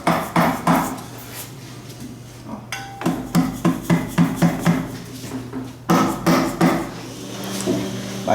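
A hammer taps repeatedly on a part from a 2011 Honda CR-V transmission during gearbox repair in a workshop, with bursts of sharp metallic strikes in a steady rhythm, loud and close.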